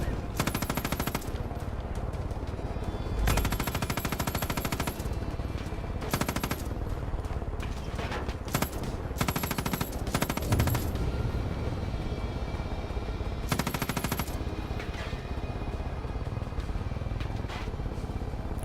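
Turret machine gun in Far Cry 5 gameplay, rapid loud bursts of automatic fire repeating in long and short volleys over a steady engine-like rumble, close and dominant.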